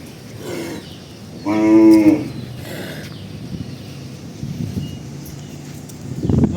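A large dairy cow gives one long, loud moo nearby, with faint outdoor rustling before and after.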